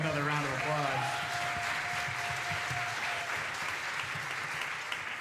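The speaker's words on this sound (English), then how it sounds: "Give them another round of applause." Concert audience claps after a jazz set. The applause is steady and fairly quiet, with a voice and a brief sustained tone at the start.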